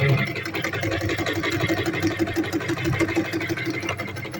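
A Veritas 8018/2 sewing machine runs forward stitches with a quick, even mechanical chatter and a low motor hum throughout.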